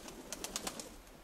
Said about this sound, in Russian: выпускаем голубей с выставки